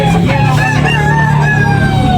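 A rooster crows at a chicken sale in Tabunok, Talisay, Cebu, a loud, close, drawn-out call over a background of other fowl and market noise.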